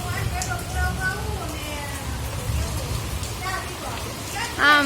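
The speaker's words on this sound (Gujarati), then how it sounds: "વરસાદ ધૂમ ધુક્કાર ચાલુ છે અત્યારે" Heavy monsoon rain in Junagadh pours down as a steady, dense hiss that fills the whole stretch, while a voice speaks over it close by.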